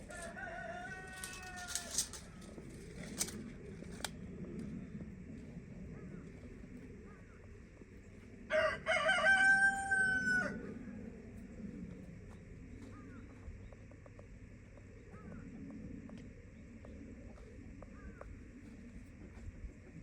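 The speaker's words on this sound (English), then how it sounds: "Hear the crows talking, the roosters crowing." Roosters crow from a distance in Jefferson, South Carolina, a few times in the first seconds and again more loudly around the middle, over steady outdoor ambience and faint background chatter.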